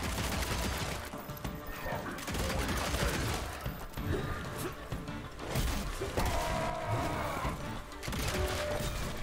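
Continuous bursts of gunfire in the video game Evil West with crashes and impacts, dense and loud, layered over a busy soundtrack.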